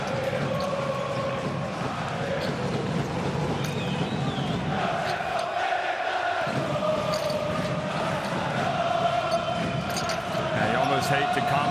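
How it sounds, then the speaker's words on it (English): Crowd noise fills a basketball arena during a Champions League game between Hapoel Holon and Hapoel Jerusalem, a constant loud roar of fans with cheering swells, and a commentator talks over it. "Hate to commentate over the crowd noise, because it is just worth absorbing"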